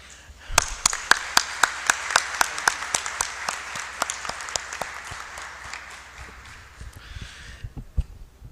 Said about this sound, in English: I would like to request a round of applause for Dr.